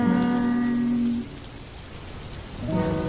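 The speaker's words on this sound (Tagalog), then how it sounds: "Lagi na lang umuulan," Steady animated rain falls as a dense hiss, with a sustained musical tone sounding over it at the start and returning near the end.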